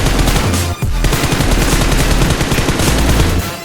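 Automatic gunfire in the mobile battle-royale game BGMI (PUBG Mobile) rattles in dense, rapid, loud bursts almost without pause, with a single brief gap near the start.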